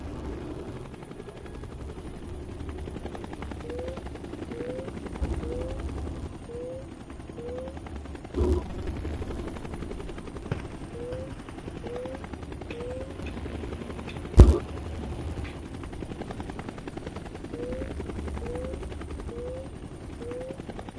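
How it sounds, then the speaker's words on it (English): Helicopters in the flight combat video game Tom Clancy's H.A.W.X. 2, a steady rotor drone with periodic chopping pulses and occasional sharp gunfire or explosion hits, with no talking. "Oh, you're going for the choppers now."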